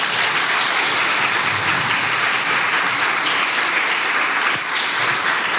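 An audience at a Finnish cultural wellbeing forum applauds to welcome hospital and care musicians onto the stage, giving steady, dense clapping throughout with no talk.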